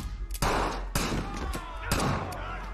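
Gunshots ring out in a tense thriller scene as players in a deadly game open fire at once, several sharp loud bangs in quick succession over a reverberant room.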